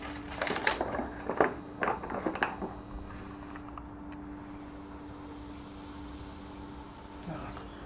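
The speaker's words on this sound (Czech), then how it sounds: "Přidáme tedy sůl." Salt is tipped into a container for a homemade rust remover, giving a few close, dry crackling and rattling bursts over about two seconds before it settles into a quiet, steady background hum.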